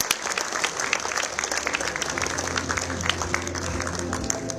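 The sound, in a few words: applause for the presentation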